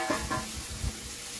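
Chopped onion and green chili sizzling in a pan for a home-cooked greens and fish dish, a soft steady frying hiss with light stirring clatter, close and moderately quiet.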